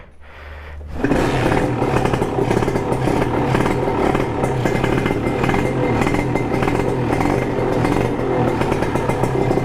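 Motorcycle engine with an exhaust plug just fitted, starting up and then running loud and close in a steady, raspy roar that holds without letting up.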